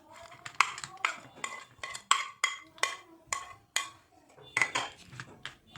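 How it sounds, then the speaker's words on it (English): Chopped dates and tutti frutti tipped into a bowl of soaking dry fruits for a plum cake, heard as a run of close, sharp clinks and scrapes of a spoon against the bowl, repeating at an uneven pace. "here I have some chopped dates and some tutti frutti which I am going to add to this dry fruit mixture"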